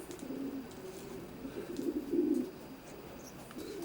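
Racing pigeons of the Widowhood-raced Herman family coo softly in a loft, low rolling coos rising and falling over a steady background hum, moderately close and continuous.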